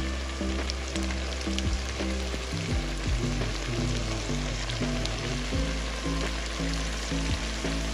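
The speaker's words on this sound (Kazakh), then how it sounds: "Сәл қуылғаннан кейін бүйректің тұтап, ұзақ қуыратын боламыз." Kidney and heart pieces fry in a pan for Kazakh kuyrdak, giving a steady, dense sizzle and crackle that runs unbroken throughout with no voices.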